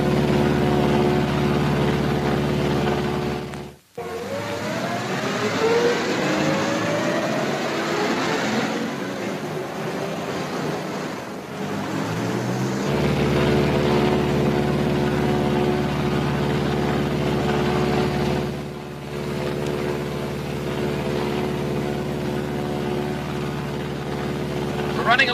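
A Martin B-26 Marauder, a WWII twin-engine medium bomber flying on a single engine at 4,000 feet, drones with a steady, loud tone that briefly drops out near four seconds, with radio-style voices over it.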